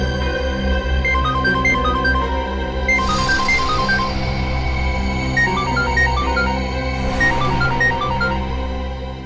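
A phone rings with a repeating electronic ringtone melody. It sits under loud, steady dramatic background music in a tense police crime drama scene.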